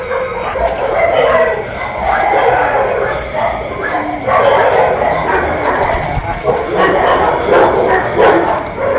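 Many dogs held in iron cages bark, yip and whimper together in a loud, continuous chorus that fills the whole stretch, with people talking over the din.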